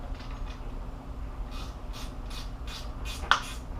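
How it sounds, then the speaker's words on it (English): A hand tool ratchets and rubs while a bolt on the timing chain cover of a 2006 Jeep Grand Cherokee 3.7L engine is tightened, giving soft repeated clicks over a steady hum and ending in one sharper click. "I torque this until it feels just right"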